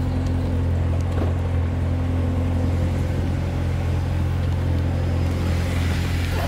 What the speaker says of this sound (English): We use the remote start to get the car started